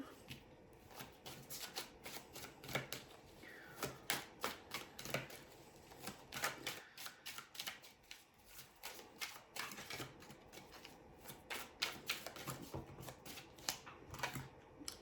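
Cards are shuffled and riffled close by, a quiet run of quick, crisp flutters and taps repeating irregularly, with no talking.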